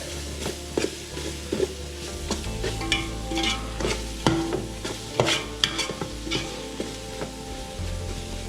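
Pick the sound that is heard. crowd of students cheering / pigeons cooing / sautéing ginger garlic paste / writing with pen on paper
sautéing ginger garlic paste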